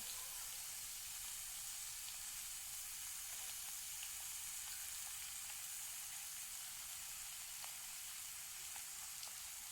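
Pumpkin and pointed gourd fry in a pan for a mixed vegetable labra curry, giving a steady, even sizzle and crackle that holds throughout with no voices.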